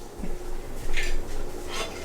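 Metal saucepan and frying pan parts clink and clatter in a few short knocks and scrapes, close by and fairly quiet, with no talking.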